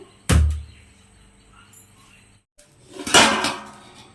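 A metal spoon clanks sharply against a pot of dum biryani, followed after a pause by a longer scraping, clattering stir, close and without talk.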